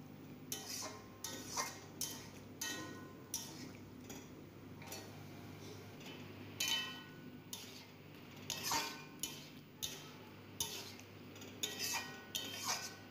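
A spoon scrapes and clinks against a pan as boiled peas are tossed with spices for ghugni, its soft strokes repeating in a steady rhythm at low volume, close by, with no talk.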